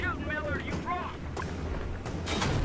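Gunfire in the Battlefield 3 singleplayer campaign, with a few booming reports over a rumbling vehicle and wind bed while someone talks.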